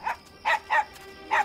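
Four short, sharp barks from a dog at moderate distance, bunched unevenly across about a second and a half, with no talking.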